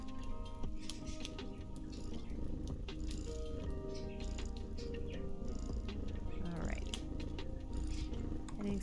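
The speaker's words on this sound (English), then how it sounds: "The kitty. With a nice purr and the music." A cat purrs steadily close by under background music and intermittent quiet clicks, with a voice talking faintly at times.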